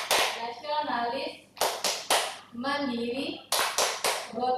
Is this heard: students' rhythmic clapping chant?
yes